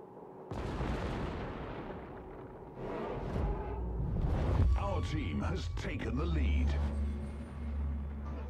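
Warship guns firing in the World of Warships naval battle game, several heavy booming salvos and rumbling blasts, loud and close, layered with roaring battle noise while voices talk over it.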